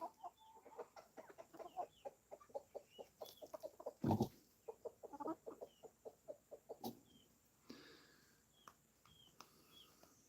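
Chickens on a homestead cluck steadily in a rapid, uneven stream of short calls, some louder and nearer, others softer and further off, with an occasional longer squawk and no talking.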